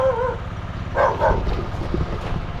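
A dog barks a couple of times in quick succession, fairly close, over a steady low background rumble.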